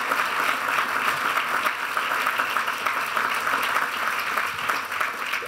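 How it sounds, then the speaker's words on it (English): An audience at a Vermont governor's press conference celebrating CHIPS funding for GlobalFoundries claps in a dense, sustained round of applause, with no voices over it. "that was worthy of a round of applause"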